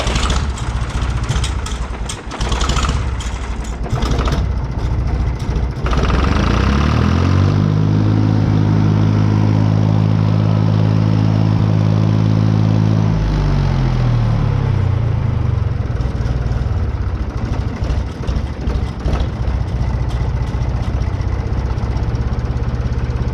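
An International 484 tractor engine idles loud and close, with a steady rumbling drone that settles, holds, then shifts in speed as the idle is adjusted. No one speaks over it.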